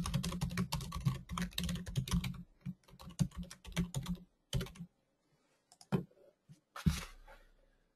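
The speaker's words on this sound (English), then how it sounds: "So securely log in with your username and password." Login details being typed on a computer keyboard, rapid bursts of close key clicks, then sparser scattered taps with short pauses before a final few strokes.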